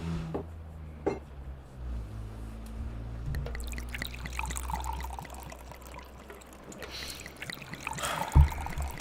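Spirits being poured into a glass, a faint trickle of liquid over a quiet low hum, followed by a soft clink near the end.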